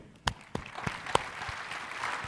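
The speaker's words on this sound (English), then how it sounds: "Join me in a round of applause for both of them" Scattered hand claps ring out from a small crowd at a conference keynote session, a few sharp isolated claps followed by a thin, steady patter of applause.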